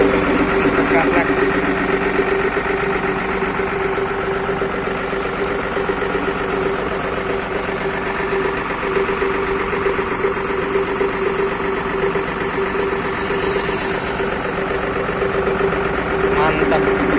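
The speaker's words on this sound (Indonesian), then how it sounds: "Makin sangar suara knalpotnya." A motorcycle fitted with an aftermarket Serigala exhaust idles steadily, a constant low throbbing engine tone with slight vibration, close and unbroken throughout.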